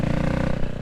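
A motorcycle engine revs close to the microphone, a dense pulsing throb held at fairly low revs for under a second.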